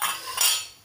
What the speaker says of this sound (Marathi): हे बघा, फोडणी झाकण काढून घेऊया